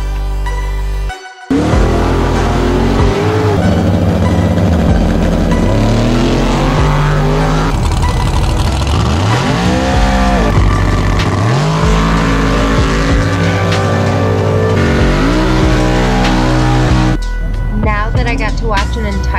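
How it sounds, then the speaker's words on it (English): Drag race cars launching up the hill at a dragway, loud engines roaring and revving through repeated gear changes close by, with tire noise and crowd sound as they pull away. "To watch an entire round go up the hill"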